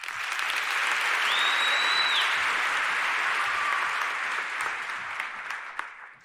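A fashion show audience breaks into a long, even round of applause that holds strong, then thins and tapers off near the end, with a faint tone sounding briefly over it.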